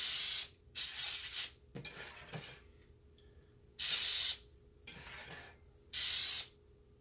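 Baker's Joy baking spray hisses into 9-inch cake pans in five short bursts, each about half a second to a second long, close and crisp, with quiet handling noises between them and no talk.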